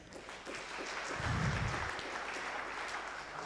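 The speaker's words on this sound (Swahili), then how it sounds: "Tumpigie Bwana makofi" A congregation at a Kikuyu church service claps for the Lord, a sustained broad patter of many hands heard alone, steady and fairly loud throughout.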